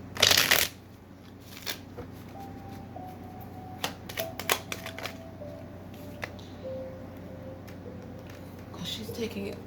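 Tarot cards shuffled in one loud riffling burst at the start, followed by scattered soft card taps and handling noises over a quiet room hum, with no talking.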